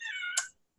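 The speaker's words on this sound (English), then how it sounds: "You can probably hear my cat meowing." Cat meowing once indoors, a short, faint rising cry that ends in a brief bright squeak and fades out.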